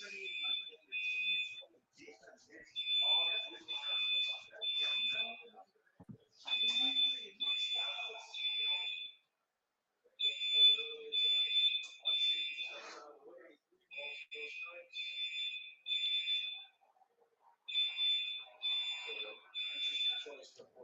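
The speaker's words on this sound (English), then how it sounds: "What we don't need is a fire alarm in your house, in your apartment complex." A house fire alarm sounds in repeated bursts of shrill high beeping groups, steady and fairly loud, with someone talking over it between and during the bursts.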